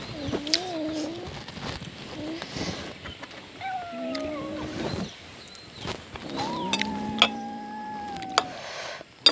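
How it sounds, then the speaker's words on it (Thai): A cat meows repeatedly in drawn-out, wavering calls with a few short gaps, fairly close, while fish and buffalo-skin curry is being cooked nearby. "แมวมันก็อยากกินเอา"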